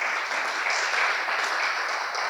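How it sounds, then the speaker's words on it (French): Brief, even applause rises from the audience at a literary meeting with an author, a dense wash of many hands clapping without pause. "sous vos applaudissements"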